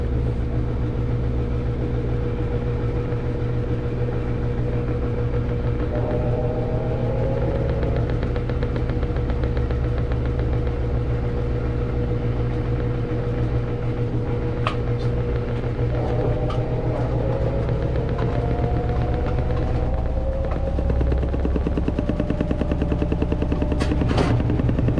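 A Samsung washing machine in its final spin cycle gives off a loud continuous whirring drone with a rising mechanical whine and a few brief clicks, steady and close for the whole stretch.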